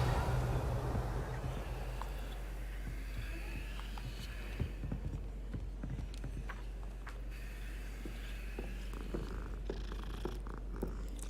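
A cat in Hogwarts Legacy purrs in a steady, continuous low rumble, close and soft, holding evenly throughout with faint background game ambience and no talk.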